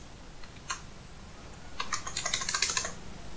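Keys clatter on a computer keyboard: a few isolated taps, then a quicker burst of typing with fairly steady rhythm, close and clear against a quiet room with no voices.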